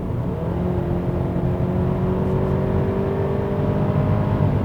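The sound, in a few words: Hyundai Palisade 2.5 turbo accelerating hard in sport mode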